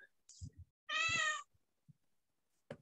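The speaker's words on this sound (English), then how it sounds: "You either have a small child that sounds like a cat or a cat." A cat meows once, a clear drawn-out call close by, framed by a few soft knocks and faint voice fragments before and after.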